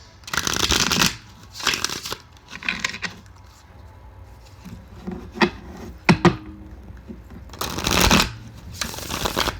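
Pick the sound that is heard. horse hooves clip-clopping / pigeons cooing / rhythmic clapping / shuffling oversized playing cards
shuffling oversized playing cards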